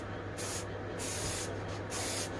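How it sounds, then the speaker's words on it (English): A can of metallic aerosol spray paint, warmed under a hot tap, is sprayed in three short hissing bursts with brief gaps between them, close and fairly loud. "I always warm these up slightly under a hot tap because it makes the pressure in the can better, so it sprays better."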